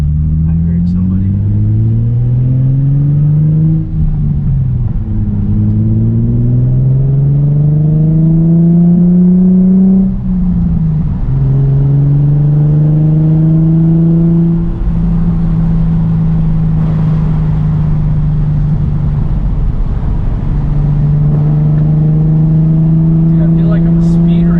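A Nissan 350Z with a full titanium Tomei exhaust revs repeatedly, the engine note climbing and falling in several long pulls with a loud, droning rasp, while people talk nearby.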